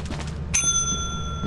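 A bell rings once in the video game Lethal Company, a sharp struck onset followed by a long, bright ringing tone that hangs steadily over faint background noise.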